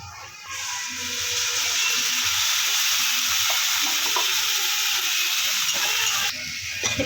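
A ground paste of poppy seed, mustard and green chilli fries with onions in a pan for a bata fish curry, making a loud, continuous sizzle with soft stirring noises throughout.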